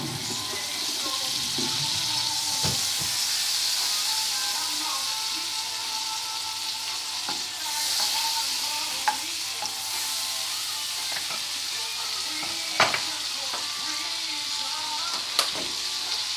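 Butter sizzles and crackles steadily in a hot frying pan, a constant bright hiss broken by a few sharp clicks and knocks of utensils nearby.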